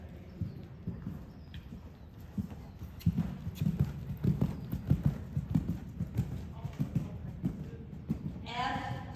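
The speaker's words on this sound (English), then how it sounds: "lengthen stride and canter" Horse hooves cantering on dressage arena footing, a steady rhythmic clip-clop of muffled beats, close and moderately loud, with a voice calling out movements in the background.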